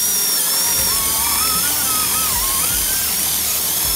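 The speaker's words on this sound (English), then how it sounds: "I'm gonna drill through nice and slow, nice and easy." A power drill bores a pass-through hole in the body of a Winnebago Sprinter van, a loud continuous whine up close whose pitch wavers slightly as it cuts slowly through the metal.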